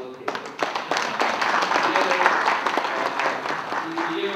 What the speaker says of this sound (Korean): 우리 또 한 번 박수 한 번 드려볼게요